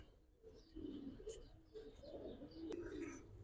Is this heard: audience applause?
no